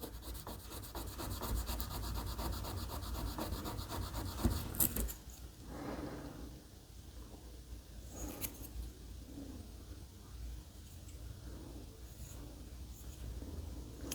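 Sanding a car trunk on a 1970 Plymouth Roadrunner with 320 grit sandpaper gives a steady, close scratchy rubbing, then softer intermittent strokes after a brief pause.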